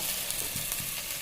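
Garlic frying with onion, green chilli and curry leaves in a pan, giving a dense, steady hiss of sizzling oil throughout a short moment, with no voices.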